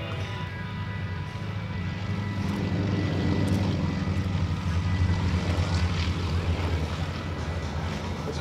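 Three propeller aerobatic planes of the Team Aerostars take off together at a 2008 air show in Janesville, Wisconsin, a sustained loud droning engine roar that swells slightly as they roll, with faint voices in the background.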